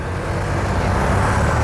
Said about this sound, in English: So we are along the road, so it's going to be super noisy.